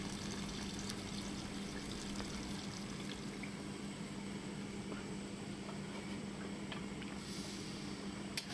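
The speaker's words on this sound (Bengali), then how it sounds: "এবারে আমি এর মধ্যে জল দিয়ে দেবো, পরিমাণ মতো জল দিয়ে দেবো।" Water pours steadily into an egg and potato curry in a pan, a continuous close splashing and trickling with a low hum underneath, no talking.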